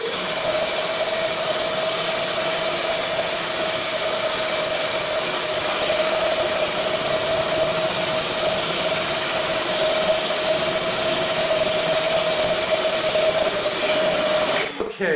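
A Bissell DeepClean ProHeat carpet cleaner runs with a steady, loud motor whine and hiss throughout, holding a constant high-pitched tone at close range before cutting off abruptly at the end.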